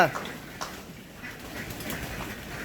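A flock of ducks is herded out of a pen, their faint quacks and flutters mixing with people talking loudly nearby.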